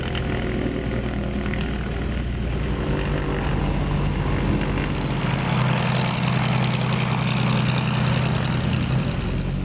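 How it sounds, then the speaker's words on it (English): Steady, loud propeller drone inside an 8-seater Skybus plane flying to St Mary's in the Isles of Scilly, a continuous cabin hum and engine roar throughout with no talk. "An 8-seater skybus flew us to St Mary's"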